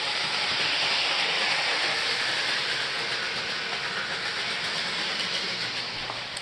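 A train runs along rails in a steady, loud rolling rumble with a broad hiss that holds evenly and fades slightly toward the end.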